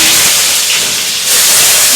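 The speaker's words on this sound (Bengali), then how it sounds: "পেঁয়াজ কুচিগুলো দিয়ে আমি এভাবে নাড়তে থাকবো" Chopped onion sizzles in hot soybean oil in a pan, a loud, close, continuous hiss and crackle that holds steady throughout with no talking.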